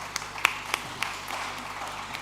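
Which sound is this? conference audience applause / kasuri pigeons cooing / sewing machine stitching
conference audience applause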